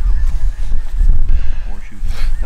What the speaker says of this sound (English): there's a lot of birds